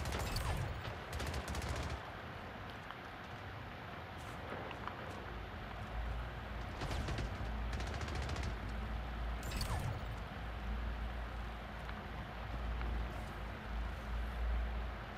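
Gunfire from the online shooter Splitgate, a dense, continuous stream of rapid shots and bursts lasting throughout, fairly loud game audio with no talking over it.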